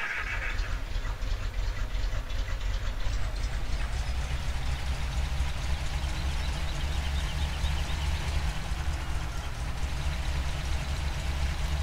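A modded vehicle engine idles in a farming video game, giving a steady, continuous low rumble with a constant mechanical drone and no talk.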